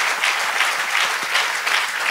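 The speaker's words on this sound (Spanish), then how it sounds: "Alguien le da un aplauso fuerte al Señor conmigo." A church congregation bursts into sustained applause, dense steady clapping from many hands filling the room evenly with no voices rising above it.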